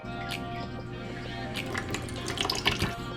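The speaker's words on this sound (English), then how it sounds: "Let's go ahead and rinse our guy off." Water from a tap runs steadily over a pet turtle during a rinse at a sink, a soft continuous splashing with a few brighter spatters near the end, close and moderately quiet.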